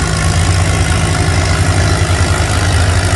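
A Farmall tractor engine at a county fair tractor pull gives a loud, steady, heavy rumble with a strong low throb and broad noise that stays constant throughout, with no voices.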